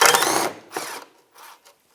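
An 8mm socket turning a bolt loose on a 2004-2010 BMW X3 during oxygen sensor replacement, heard as a close buzzing ratchet run followed by two shorter bursts.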